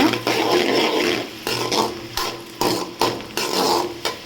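Onions are sautéed in a pan for egg Maggi noodles, with a close frying sizzle cut by rhythmic spatula scrapes and knocks against the pan, about one every half second. No talking is heard.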